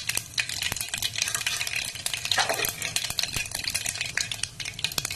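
Fenugreek, mustard seeds and cumin sizzle and crackle steadily in hot oil for a small-fish curry, with a spoon stirring and scraping against the pan throughout, close up and without talk.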